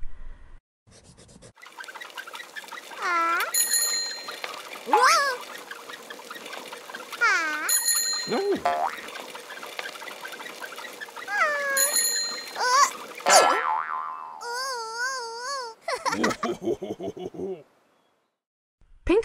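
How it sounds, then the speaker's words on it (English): A bright bicycle bell rings a few times amid cartoonish music, honks and quacking sound effects, fairly loud and busy throughout. "was being safe by ringing his bell as he approached"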